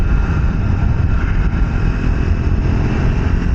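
A Triumph Speed 400 motorcycle riding onto a freeway, giving a loud, steady engine drone mixed with heavy wind rush and no talk.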